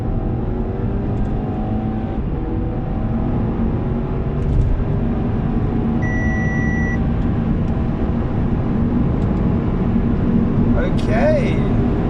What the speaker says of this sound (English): we're gonna do our quarter-mile pull now